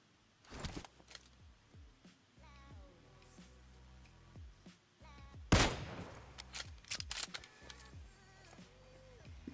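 Gunfire in the PUBG Mobile video game: scattered sharp shots over a quiet background, then one much louder close crack near the middle, followed by a few more brief bangs and faint game tones.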